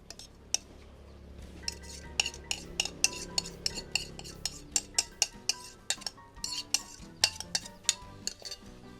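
Marinade is mixed into pork for grilled pork skewers, with a utensil striking a bowl in a quick, irregular series of bright clinks and taps, close and steady, with no voices.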